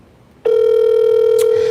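Outgoing telephone call ringing tone: after a quiet start, a loud steady electronic tone begins and holds continuously, close and alone.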